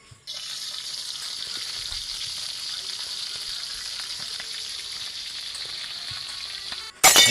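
Bansi (flying fish) fries in a pan with oil, giving a loud, steady sizzle that holds for several seconds before a sudden burst of louder crackling at the end.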